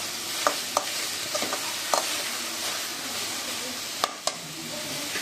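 Ingredients are sautéed and stirred in a pan for a cornflour snack, giving a soft steady sizzle broken by a few sharp scrapes and knocks of the spoon.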